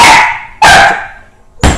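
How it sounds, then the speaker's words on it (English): A small dog barks sharply three times close by, high and yappy, with brief pauses between barks. "She is literally barking."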